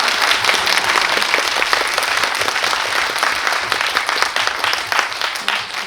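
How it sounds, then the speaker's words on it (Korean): Audience at a post-screening Q&A for the Korean film Anchor applauds director Jung Ji-yeon: dense, loud, steady clapping from a full room throughout, without a pause. "감독님 앞으로 좋은 작품 활동하시길 응원하는 차원에서 큰 박수 부탁드리겠습니다"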